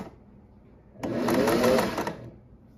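A 1950s Singer 403A sewing machine runs a straight stitch through fabric in one steady burst of about a second, its fast mechanical whir standing out close and clear.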